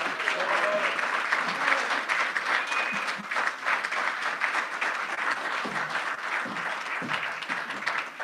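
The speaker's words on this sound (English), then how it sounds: "let's welcome and applaud LaVon Chambers." An audience at a labor awards breakfast claps loudly and continuously for about eight seconds, a dense steady roar of applause with no clear talk over it.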